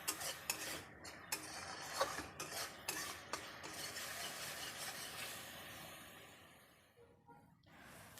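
Fish masala being stirred and fried in a pan, with a spoon scraping and clinking against the metal in short repeated strokes over a steady soft sizzle, close up and fairly quiet, no talking.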